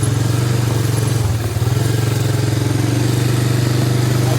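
Honda Big Red three-wheeler engine idling and chugging steadily as the trike turns while towing a log trailer, a loud, close, continuous low rumble with a brief dip partway through.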